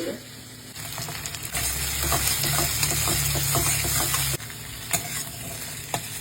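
Onion and capsicum frying in a pan for chilli paneer, a steady loud sizzle with repeated scrape-and-stir clatter, easing off toward the end with a few sharp utensil knocks.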